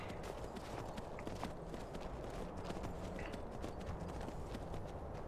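Steady clip-clop of horse hooves at a brisk pace in the video game Skyrim, over a dense, noisy background, continuous throughout with no speech.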